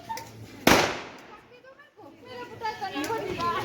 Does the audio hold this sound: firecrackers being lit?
yes